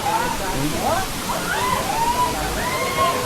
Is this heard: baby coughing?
no